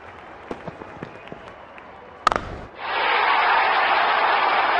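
A cricket stadium crowd at a Delhi Capitals vs Mumbai Indians IPL match erupts into a loud, sustained roar and cheering after a six, following a few sharp clicks and a hard knock.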